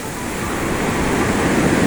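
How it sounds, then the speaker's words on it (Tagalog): Large ocean waves at Tibu tidal beach roar in a loud, continuous wash of surf, close by with no talk. "Maabot na sa akin yung alon eh."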